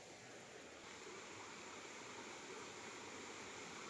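The Mahayhay River, a small river on a rural farm lot with a mountain view, flowing as a faint, steady, continuous rush of water with no break.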